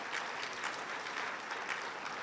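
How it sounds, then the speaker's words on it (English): A crowd at a city's State of the City address claps for the mayor in a steady, dense round of applause, loud and continuous throughout, with no talking over it. "Give her a round of applause, ladies and gentlemen."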